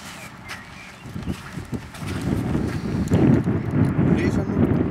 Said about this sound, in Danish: Men lige nu blæser det, kan jeg mærke.